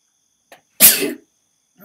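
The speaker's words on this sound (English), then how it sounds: "that's the first time I sneezed in forever" A single sharp human sneeze bursts out close and loud, preceded by a faint intake of breath, then brief silence.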